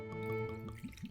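Ben Nevis whisky is poured down the side of a glass in a brief, soft trickle with a few gurgling drips that die away within about a second.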